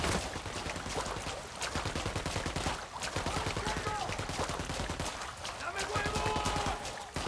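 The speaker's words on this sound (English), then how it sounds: "Firing." Sustained gunfire in the Ghost Recon Wildlands video game, with rapid automatic bursts and repeated shots rattling continuously over a battle scene, loud and close with brief lulls between volleys.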